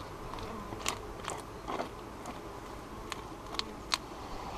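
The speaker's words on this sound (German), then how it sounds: "dazu nehme ich einfach hier den Stockmeißel und nehme den verdeckelten Honig hier und reiße den auf." A steel hive tool rips open wax-capped honeycomb in a beehive, making soft, sticky crackles and scattered sharp ticks over a faint hum of bees.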